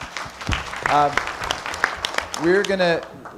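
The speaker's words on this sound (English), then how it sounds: "So a round of applause for those guys, please." Applause from attendees at a town special study session on a rancheria development, uneven bursts of clapping mixed with voices and calls near the listener.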